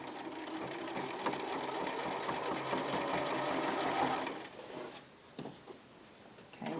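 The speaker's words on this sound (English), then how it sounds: "we're stitching a curve" A sewing machine runs steadily as it stitches the neckband of a bomber jacket, a loud continuous whirr that stops partway through, leaving lighter handling noise and brief restarts.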